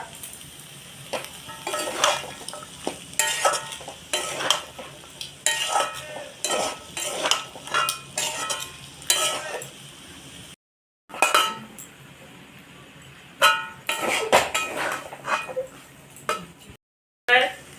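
Boiled peas are stirred into fried masala in a pot for ghugni, with repeated scraping and clinking of a metal spoon against the pan over a soft sizzle, briefly pausing twice.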